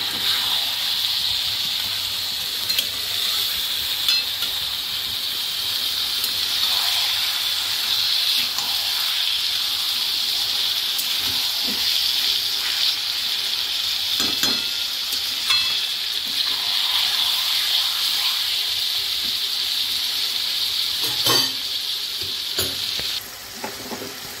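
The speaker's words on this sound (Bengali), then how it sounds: "মাংসটা দিয়ে ভালোভাবে নাড়াচাড়া করতে হবে।" Chicken pieces frying with softened onions in a pan while being stirred, a steady loud sizzle with a hiss running throughout and occasional scrapes and knocks of the spoon, no voices.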